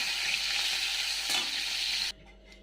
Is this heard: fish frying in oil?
yes